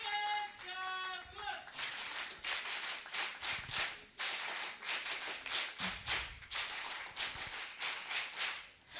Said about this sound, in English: A huge round of applause for the president.